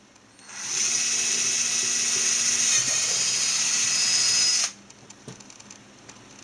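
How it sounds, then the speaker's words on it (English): Power drill bores a hole into a bottle for a homemade hydrophone, a loud, steady high whine lasting about four seconds that cuts off abruptly, followed by faint clicks and handling. "let's drill a hole in the roof of the cathedral"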